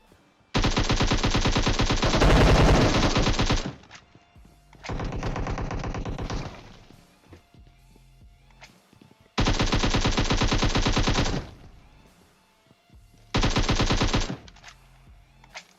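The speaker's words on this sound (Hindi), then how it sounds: "लेकिन गोली ये लोग बराबर चलाते हैं" Gunfire in the mobile battle-royale game PUBG Mobile: four long bursts of rapid automatic fire, loud and close, separated by short gaps with quieter shots and game sounds in between, no talk.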